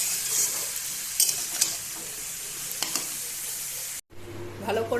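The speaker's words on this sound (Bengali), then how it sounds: "এবার একটু ভালো করে কষিয়ে জল দিয়ে দেবো।" Vegetable curry with green and dried red chillies being stirred and sautéed in a pan, giving a steady close sizzle with scraping spoon strokes, a brief break near the end, then frying resumes.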